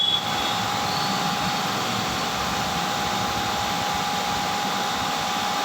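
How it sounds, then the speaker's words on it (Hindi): A car engine with a modern management system and MAP thermostat is held at raised revs, producing a loud, steady mechanical drone with a thin whining tone that barely varies. "रेस हम दे रहे हैं एज यू कैन हियर"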